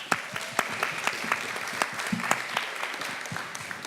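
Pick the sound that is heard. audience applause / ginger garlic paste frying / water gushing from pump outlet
audience applause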